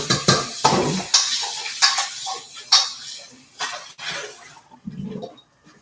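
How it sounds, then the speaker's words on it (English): Bowls handled and rinsed in a kitchen: a run of clattering knocks of dishware against each other and against hard surfaces, with brief splashes of water between them, close and irregular. "And now I'm going to get my bowls. And rinse my bowl out."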